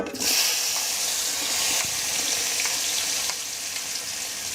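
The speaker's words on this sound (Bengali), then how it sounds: "শুটকি মাছ ভেজে নেওয়ার পর অবশিষ্ট তেলে আমি এখন দিয়ে দিচ্ছি রসুন কুচি" Minced garlic hits hot leftover oil in a pan after dried fish was fried, giving a bright, steady sizzle that flares at the start and holds as a continuous hiss throughout.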